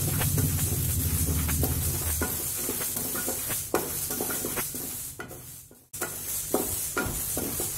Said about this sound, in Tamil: பாசி பருப்பை லேசாக வறுத்து போடணும் அது ஒரு வாசனை வரும் அது வரைக்கும் நம்ம வறுத்து எடுத்துக்கலாம்